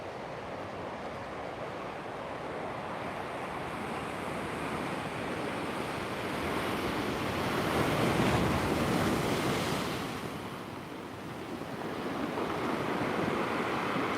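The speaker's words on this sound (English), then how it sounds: "there's a big wave in the background there as well." Ocean waves break continuously on the shore at La Caleta, a broad rushing surf swelling louder midway and again near the end, mixed with wind noise and no talk.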